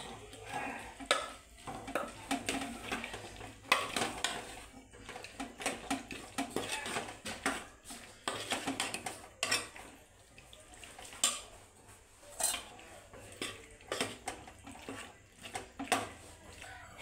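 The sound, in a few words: sautéing pressure-cooked chickpeas for chhole masala in pan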